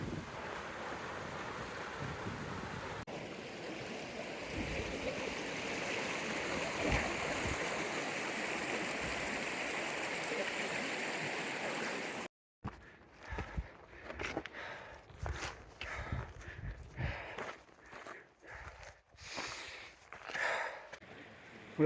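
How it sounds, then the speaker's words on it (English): A cold river rushes along at a crossing on the Pacific Crest Trail near Mt. Whitney. The steady, close wash of flowing water carries on for about twelve seconds before giving way to broken gusts of wind and handling noise. "here's our river we've got to cross."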